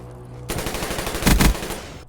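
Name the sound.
gunfire in video game Call of Duty Black Ops 3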